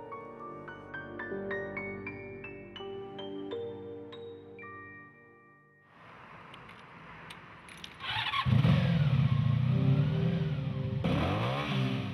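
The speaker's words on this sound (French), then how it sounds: "Gérard Depardieu enfourche sa moto pour rejoindre le tournage du film de Claude Zidi" A motorcycle engine starts and revs, the first seconds holding steady tonal notes before a rough engine rumble swells and grows louder, with bursts of throttle toward the end, no voices.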